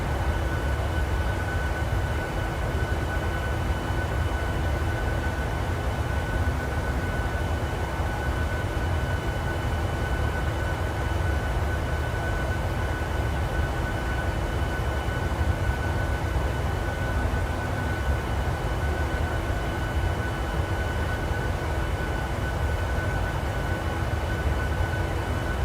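Steady, unbroken drone of an aircraft engine in a virtual airline flight simulator game, a constant low rumble with faint tonal hums, even in loudness throughout with no talk.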